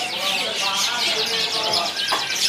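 F1 series canaries chirping at a bird kiosk in a market, a busy overlapping chorus of rapid trilling and tweeting calls continuing throughout.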